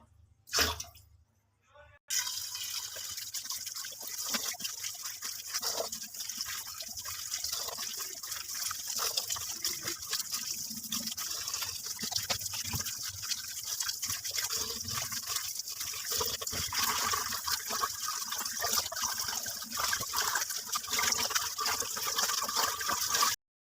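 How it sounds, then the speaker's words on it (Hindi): Tap water runs over spinach being rinsed, a steady close splashing stream that starts after a brief pause and continues evenly to the end. "अब मैं इसको टूटी के नीचे रख के हल्का सा मैं इसमें पानी डाल दूंगी"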